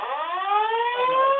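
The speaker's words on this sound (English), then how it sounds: "we just had a fire alarm over here" An office fire alarm sounds as a steady, loud electronic tone with a stack of harmonics, continuous and unbroken, with no voices over it.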